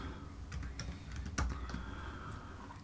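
Soft, close keystrokes on a computer keyboard come in a short, quick burst of taps with one slightly louder press, quiet against a faint background hum.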